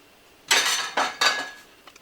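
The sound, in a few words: draining homemade tagliatelle, pots and utensils clinking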